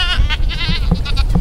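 Goats on a farm bleat loudly and repeatedly at morning feeding time as they run toward food, several wavering calls overlapping close by.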